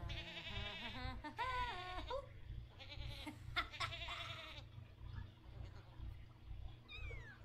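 Mini goats, including Dalmatian and spotted breeds, bleat and cry in The Sims 4, several close, wavering calls in quick succession over a steady low game background hum, with a brief higher call near the end.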